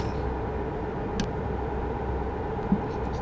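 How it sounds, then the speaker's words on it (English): A Kenworth truck engine in American Truck Simulator drones steadily at a low, even rumble, with a couple of faint brief clicks over the constant tone. "That truck sounds awesome"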